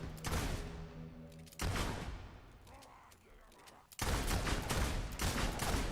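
Master Chief's rifle fires in the video game Fable 2, rapid automatic bursts in three loud stretches separated by a brief quieter gap.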